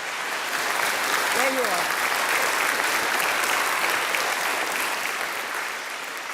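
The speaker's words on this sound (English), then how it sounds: "What we're giving a round of applause to everybody listening" Audience in the Scottish Parliament chamber at a quiz final applauds in a sustained, even roar of clapping, with a brief spoken remark rising over it early on.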